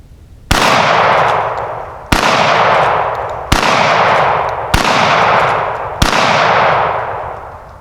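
Henry 4018 lever action rifle fired outdoors at a cardboard target, five loud sharp shots a second or more apart, each with a long decaying echo.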